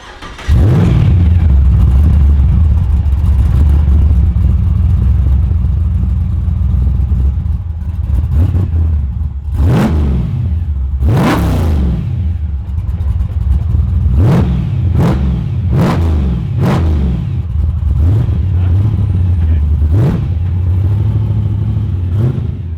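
A boosted Ford XY Falcon drift car engine drones and then revs repeatedly in sharp bursts, the dumped exhaust blatting raw with each throttle blip.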